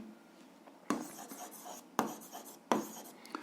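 A pen writes on paper during an algebra exercise, giving three short, quiet scratching strokes close by, with faint room hiss between them.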